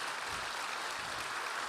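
Church congregation applauding together, a steady, dense wash of clapping that fills the whole moment with no break and no voices on top.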